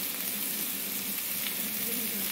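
Sliced onions and round-cut tomatoes sautéing in a pan, a steady, dense sizzle that is close and continuous throughout.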